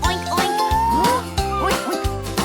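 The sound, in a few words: dog barking in a children's farm animal song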